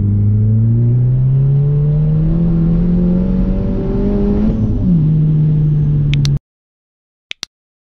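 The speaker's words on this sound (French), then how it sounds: "petite dernière accélération pour le plaisir" A 380 hp stage 2 Volkswagen Polo WRC rally car accelerates hard, its engine note climbing steadily and loudly for several seconds before a brief gear-change dip, then cutting off abruptly, followed by a couple of sharp clicks.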